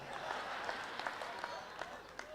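An audience at a Maharana Pratap Jayanti celebration claps in a soft, steady round of applause heard from some distance, with no speech over it.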